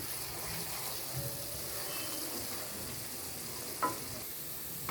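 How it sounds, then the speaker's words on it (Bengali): Steady, moderately quiet sizzling of spice paste for chana masala frying in oil, with occasional soft stirring scrapes and one brief louder clink. "মশলাটা আরেকটু ভাজা হচ্ছে"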